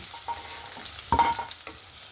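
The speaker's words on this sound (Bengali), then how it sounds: "এখানে আমার ক্যাপসিকাম আর আলুটা সুন্দরভাবে ভাজা হয়ে গেছে" Capsicum and potato pieces fry in oil for a chicken curry, giving a soft, steady sizzle with a few louder stirring scrapes near the middle and end, close and without talk.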